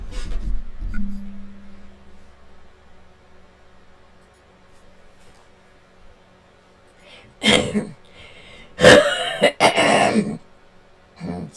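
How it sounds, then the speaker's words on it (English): A man clears his throat in a few harsh, rasping bursts near the end of a quiet stretch, close and fairly loud, with no other sound around them. "Gotta clear my throat"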